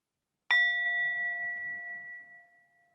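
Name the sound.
bell rung to begin a meditation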